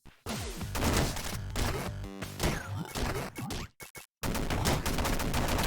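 Machine gun in the Downwell video game: rapid bursts of chiptune-style gunfire with crashing hits and clatter, nearly continuous and loud, broken by a short silent gap near the end.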